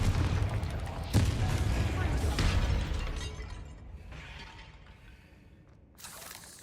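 Confringo fire spell cast in the video game Hogwarts Legacy, a loud shattering blast with a sharp crack near the start and another burst about two seconds in, decaying into a rumbling tail, with a fresh burst near the end.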